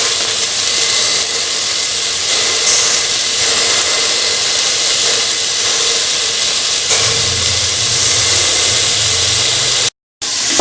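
Tomatoes and fresh lemon juice sizzle in a hot pan while cooking lemon chickpea carrot rice, a loud, steady hiss that runs without a break, cuts out very briefly near the end and has no voices over it.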